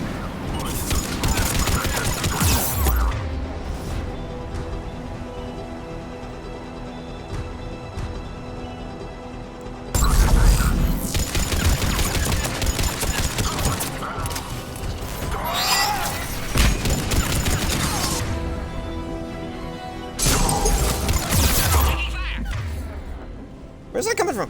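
Video game firefight at a Cerberus checkpoint: bursts of rapid automatic gunfire and heavy booms come in waves, with brief lulls between volleys and mechanical clanks mixed in.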